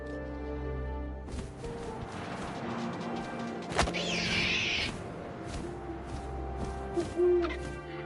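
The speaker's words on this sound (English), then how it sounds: "And suddenly, I was an owl." An owl's hoot in the video game What Remains of Edith Finch, heard among wind, a sharp crash-like hit and scattered game sounds, with no speech.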